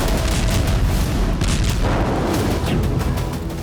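Heavy bombardment in war footage from the Russia–Ukraine front: loud, dense booming blasts rumble one after another, close and overlapping, with a slight fade toward the end.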